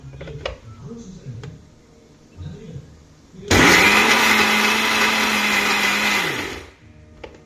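A mixer grinder blends a chukka kura (sorrel leaf) chutney in one loud steady whirring run of about three seconds, rising abruptly after someone speaks and cutting off cleanly before she talks again.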